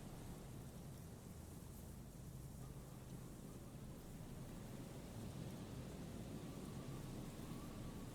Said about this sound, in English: Her voice is drowned in white noise. Sounds like waves washing a beach, growing in volume until the call suddenly disconnects.